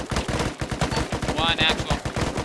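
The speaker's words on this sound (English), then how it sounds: "Taking fire from southeast" Rapid gunfire from a desert firefight in ARMA 3, played as a Mujahideen fighter: a dense stream of loud shots in tight automatic bursts, with a voice briefly heard under the shooting.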